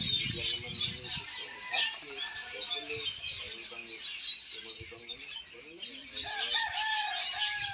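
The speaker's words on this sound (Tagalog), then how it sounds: "Ganyan po karaming ibon dito sa puno na to." A crowd of birds in a tree on a banana plantation chirps and tweets in a dense, busy chorus, with clucking and rooster-like calls mixed in, fairly close and continuous.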